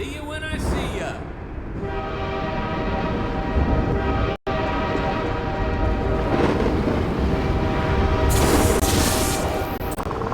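Passing train in Half-Life 2: Episode One, a loud, steady rumble of rail cars with sustained horn tones throughout, a brief dropout midway, and talk over part of it.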